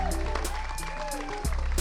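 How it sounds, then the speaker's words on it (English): Crowd at the US Open Pickleball Championships applauding a silver medalist, brief moderate clapping over a low hum and music-like tones, with cheers mixed in. "One more round of applause."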